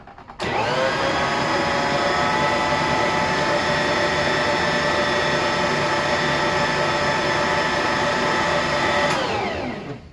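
A stand mixer churns freshly milled bagel dough with a steady, loud motor whine that starts abruptly, holds constant for about eight seconds with a flour cover on, then cuts off.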